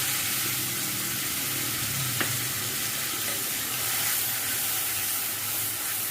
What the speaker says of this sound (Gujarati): તો હવે આપણે ટમેટાને સાતળવાના છે